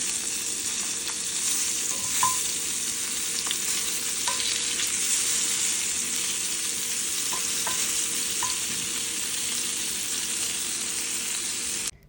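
Sankara (perch) fish frying in a pan, a steady bright oil sizzle running the whole time with occasional small pops and the faint clink of utensils, ending abruptly.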